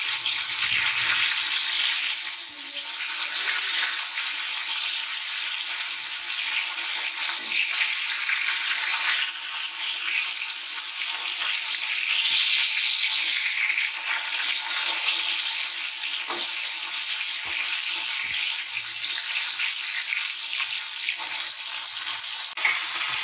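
Fish, including two fish heads, frying in hot oil in a home kitchen, a steady loud sizzle that carries unbroken for the whole stretch with no talk.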